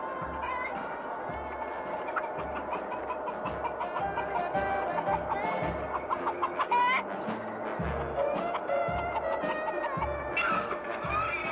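Chickens cluck and squawk continuously in a slaughterhouse handling thousands of birds an hour, a dense, busy flock noise with occasional sharper cries and a faint crow, alongside mechanical clatter and some talk.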